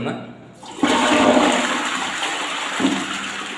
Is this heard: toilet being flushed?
yes